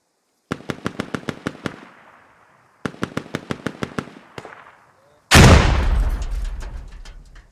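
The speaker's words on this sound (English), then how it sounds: "These guys are firing on each other." Shots ring out between enemy soldiers in the video game Squad: two rapid runs of about eight sharp cracks each echo away, then a heavy blast or burst of fire comes loud and close.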